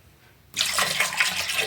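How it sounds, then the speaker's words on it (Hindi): After a brief quiet moment, water suddenly starts pouring into a pressure cooker holding amla, a steady splashing rush that continues to the end. "ये हाफ ग्लास जितना पानी मैंने और डाल दिया है।"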